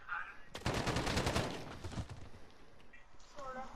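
Rapid automatic gunfire from a Call of Duty: Modern Warfare match, a loud dense burst of shots lasting over a second before tapering into scattered fire, with players talking over it.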